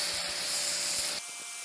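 A pressure washer blasts grime off a concrete driveway with a loud, steady hissing spray that abruptly drops to a softer rush partway through.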